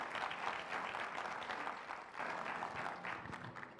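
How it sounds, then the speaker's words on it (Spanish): A church congregation applauds steadily at a worship service before a sermon, a dense continuous patter of many hands that stays even and fairly full throughout, with no voices standing out. "denle un aplauso a Dios"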